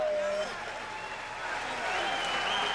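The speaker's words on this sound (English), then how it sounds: "please let's have a nice round of applause for both of these great fighters" A boxing arena audience applauds both fighters after the Cliff Couser vs Clifford Etienne bout, a steady wash of clapping with a voice faintly over it.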